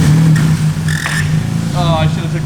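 A BMW E46's engine idles roughly during an engine swap, a close, pulsing low drone with uneven throbs, while a person briefly speaks over it.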